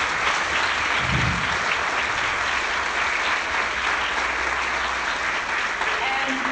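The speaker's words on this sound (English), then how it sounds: "Let's give him a warm round of applause here." Lecture audience gives a warm round of applause, a dense, sustained wash of many hands clapping at a steady, fairly loud level from start to finish.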